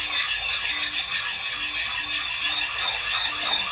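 An axe blade is sanded with wet abrasive in close, steady back-and-forth rasping strokes. The gritty scraping is even and rhythmic, with no talking.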